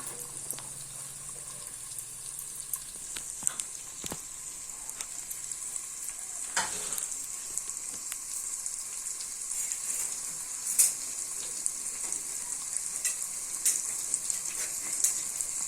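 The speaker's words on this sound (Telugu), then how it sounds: "ఆయిల్ వేసుకొని ఆయిల్ వీటెక్కాక ఉల్లిపాయలు ముందుగా తరిగి పెట్టుకున్న ఉల్లిపాయలు వేసుకోవాలి" Chopped onions fry in hot oil for a potato kurma, giving a steady close sizzle with crackles and occasional stirring clinks throughout, no talk.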